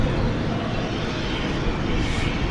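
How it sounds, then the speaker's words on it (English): Frontier Airlines Airbus A320neo arriving at DFW Airport at night, a steady broadband jet roar holding constant and fairly loud throughout, with no voices. "That's an Airbus A320neo"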